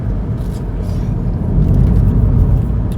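Interior road noise of a car driving, a loud, steady low rumble of engine and tires that builds slightly and continues without a break.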